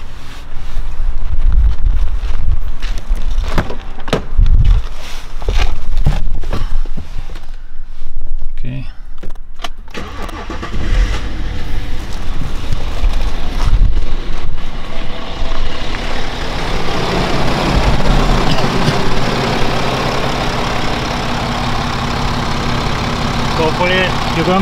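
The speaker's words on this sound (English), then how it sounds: "Now I'm going to start up the car and going to show you how it sounds." A BMW N57 diesel engine in an F01 with stretched timing chains runs steadily nearby, a continuous broadband rumble and whir that starts rough and uneven, then settles into a fuller, even drone, with some talking over it.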